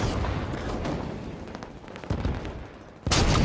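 Sniper rifle shots in the video game Halo 5 sound as a few sharp cracks over a dense rumble of game noise. A loud burst comes in right at the end.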